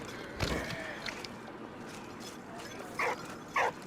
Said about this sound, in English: Bro, that dog is thuggin'.